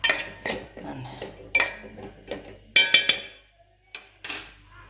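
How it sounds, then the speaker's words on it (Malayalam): A metal spoon stirs food in a cooking pot, with a series of close, bright clanks and scrapes against the metal, spaced out with short pauses between strokes. "നമുക്കിനി ഇളക്കി കൊടുക്കാം കേട്ടോ."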